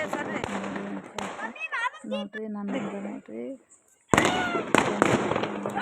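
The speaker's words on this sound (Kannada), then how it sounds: "ಪಂಚೆ ಉಟ್ಕೊಂಡು ಪಟಾಕಿ ಹೊಡ್ಯಾಕತ್ತಾರೆ ಟೆರೆಸ್ ಮೇಲೆ" Diwali firecrackers bursting on a house terrace: a few sharp, loud bangs crack out near the end, after a stretch of people talking and short whistling tones.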